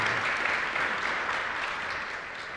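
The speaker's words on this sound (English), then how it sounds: "Let's give them a round of applause." Continuous audience applause after a conference panel at a business conference, a short, even wash of clapping that stays fairly loud before tapering slightly toward the end.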